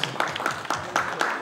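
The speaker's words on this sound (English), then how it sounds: "Round of applause." An audience at a WikiArabia 2019 community session applauds, scattered claps at close range forming a short burst with some background murmur.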